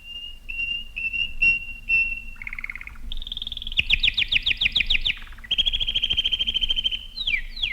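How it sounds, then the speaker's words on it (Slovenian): Nightingale song in a fairy tale scene: a long run of bright whistled phrases, repeated chirps and rapid trills that change pitch, loud and close, with no talk over it. "Moj slavček."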